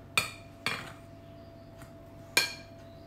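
Utensil clinks against a bowl while madeleine cacao batter is mixed by hand: three sharp metallic taps spaced unevenly across a quiet background.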